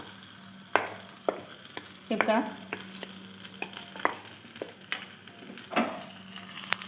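Cumin seeds and chilli are dropped into hot oil for tempering while a spoon stirs the pan, giving a steady close sizzle broken by repeated sharp scraping taps. A voice speaks briefly.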